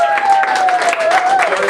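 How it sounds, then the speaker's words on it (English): Audience applause greets a speaker taking the stage at a TED talk event: a steady, dense wash of clapping sustained for the whole short stretch, with a faint tonal sound running through it. "Let's give him a big round of applause."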